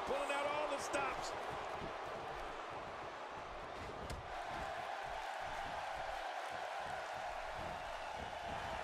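Steady crowd roar from a WWE 2K16 wrestling video game match, Ric Flair versus Arn Anderson at a WCW Halloween Havoc arena event, sustained throughout beneath commentary and impact thuds.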